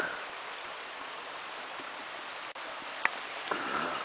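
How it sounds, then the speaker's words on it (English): A creek rushes past a campsite in the Red River Gorge, giving a steady, broadband wash of flowing water that is close and even throughout, with a couple of faint clicks and no talking. "Had the water rushing by all night."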